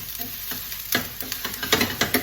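Egg fried rice sizzles in a pan while being stirred, with repeated scraping strokes of the utensil over a steady bright frying hiss, close and fairly quiet.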